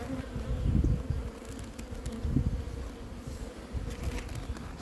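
Honeybees hum steadily at an open beehive during a beekeeper's hive inspection, a dense close buzz with swelling passes of individual bees and no voices.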